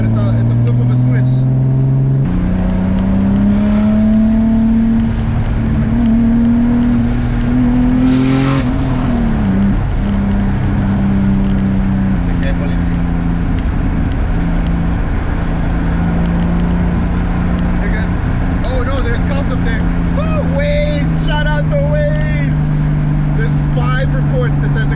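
A 500whp turbocharged M50-engined BMW E30 pulls hard at full power, its loud engine note rising and falling through gear changes, close and dominant, with voices talking over it.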